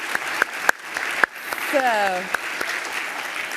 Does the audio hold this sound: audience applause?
yes